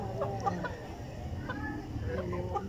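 Chickens cluck in short repeated calls from nearby, a few scattered bursts over a steady low background murmur.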